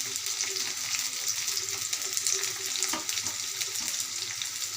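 Onion, green chili and garlic frying in oil hiss in a steady, moderate sizzle, with occasional soft taps from a utensil.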